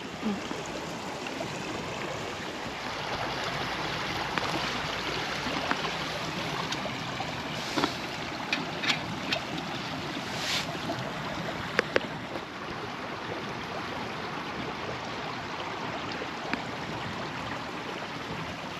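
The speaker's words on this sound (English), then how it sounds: "We've got the little twig burner going, and now some hot water on for an after dinner coffee." A small twig-burning camp stove roars steadily outdoors on a frosty winter day, a continuous broadband rushing hiss with occasional faint crackles, close and alone without talk.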